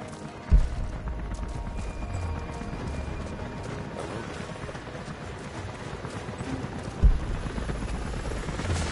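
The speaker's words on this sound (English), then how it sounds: "helicopters are headed your way" Helicopters approaching in Rise of the Tomb Raider, a continuous rotor thrum with two heavy impact thuds, loud and steady throughout.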